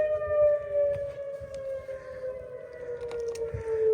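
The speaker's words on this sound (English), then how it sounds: "And sirens are back on." A distant tornado warning siren wails in a steady, sustained tone, slowly drifting in pitch, with faint patter and rumble around it.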